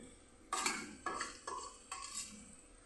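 Garlic, green chili and ginger are stirred in a pan with a little oil for prawn pickle. Four distinct scraping strokes of a utensil against the pan come in steady rhythm over a soft sizzle, close and clear, with no talking.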